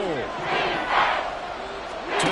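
Football stadium crowd roaring during a late goal-line play, a broad sustained cheer that swells twice, with a commentator's voice running over it.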